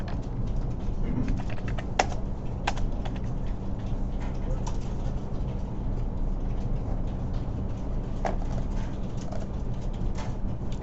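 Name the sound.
typing on a computer keyboard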